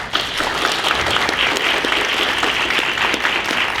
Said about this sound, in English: I want to ask for a round of applause for our panels.